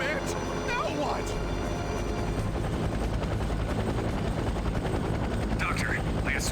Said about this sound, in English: Drop altitude and land your helicopter at once.